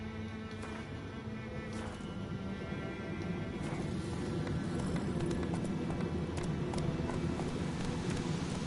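Hooves of Roach, a horse in a video game, clip-clopping in a quick even rhythm, close and clear over a soft rushing ambient bed, with the pace picking up toward the end.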